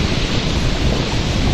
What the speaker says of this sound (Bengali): আমার পিছনে দেখেন কিভাবে ঢেউগুলো এসে আছড়ে পড়তেছে